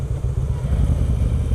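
A Harley-Davidson Sportster being ridden: a steady, close low engine rumble with a throbbing loping beat throughout a short stretch.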